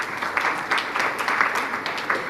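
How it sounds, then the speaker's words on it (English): Audience applause at a national symposium awards ceremony, a steady wash of many hands clapping from a crowd, sustained and fairly loud for the whole short stretch with no speech. "A big round of applause please."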